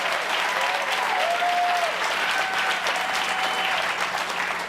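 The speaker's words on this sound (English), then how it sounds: "Let's give Dave a round of applause." Sustained applause from an audience at the Ignite Buffalo finals, dense steady clapping filling the room at even loudness throughout, with a faint tonal whistle or feedback line drifting above it.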